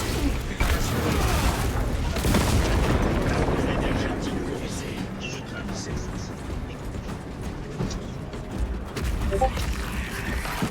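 Melta bomb explosion in the video game Warhammer 40,000: Space Marine 2, heavy booming blasts and rumbling combat noise throughout, loud, with someone talking over the action.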